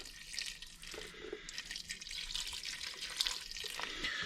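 Water runs steadily into a container of sauerkraut with a hissing, splashing wash, continuous for several seconds without any talking.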